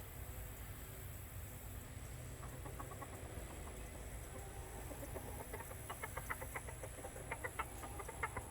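Free-range chickens cluck and murmur softly nearby against a steady low background hum, with the clucks growing more frequent and distinct toward the end.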